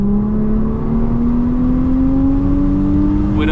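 Infiniti Q50 3.0t with an E30 tune pulls at full throttle at night, engine drone rising steadily in pitch, loud and continuous, heard from inside the car with a brief shift-like change at the end.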